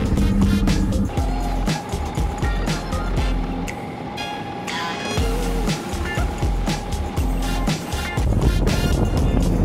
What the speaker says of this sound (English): A lot of dump truck traffic.